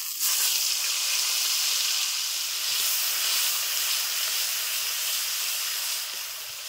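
Onion paste hits hot oil with whole cumin and sizzles in a loud, steady, bright hiss that holds evenly and eases slightly at the end.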